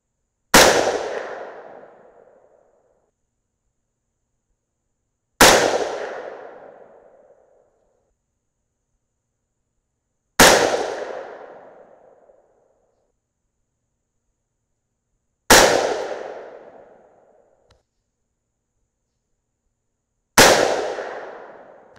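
Five loud rifle shots from a 6mm rifle firing 95 grain Nosler ballistic tip handloads, each a sharp crack with a decaying tail, spaced about five seconds apart with silence between, no talk.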